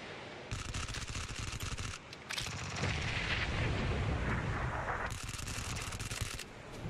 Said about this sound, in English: I drop grenade.